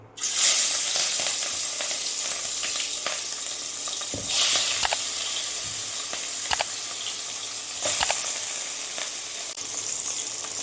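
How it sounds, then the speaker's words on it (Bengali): Loud, close sizzling of catla fish frying in hot mustard oil, a continuous crackling hiss with sharp bursts as pieces hit the pan and occasional clatter. "তেল আমাদের খুব সুন্দর গরম হয়ে গেছে, এবার এক এক করে মাছগুলো ছেড়ে দেবো।"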